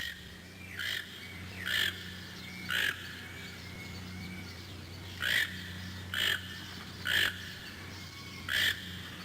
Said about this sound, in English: The Toko toucan, with soft fur-like feathers and a beak nearly as long as his body.